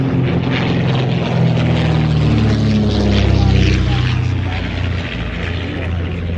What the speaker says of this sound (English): Mark Sharp, meanwhile, rolling out with the Hawk Speed 6.